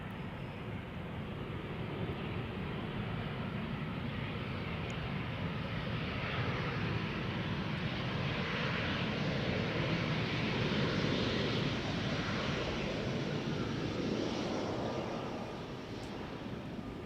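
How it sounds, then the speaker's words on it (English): An Embraer 190 jet arriving from London City gives a steady, broad roar that holds at one level throughout, swelling slightly near the middle before easing off at the end. "Here you have your rare Embraer. This is a 190 arriving from London City."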